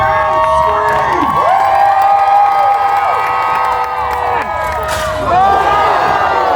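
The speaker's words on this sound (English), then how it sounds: "And the crowd screams!" A crowd at a Renaissance fair jousting match cheers and screams loudly, with high shrill voices and whoops rising and falling in waves throughout.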